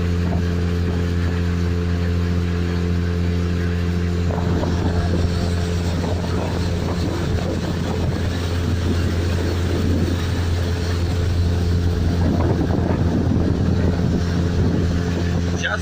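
A Neptun boat's outboard motor runs steadily on a river, cruising downstream at about 35 km/h. The engine drone stays loud and constant throughout, with wind and water rushing over it.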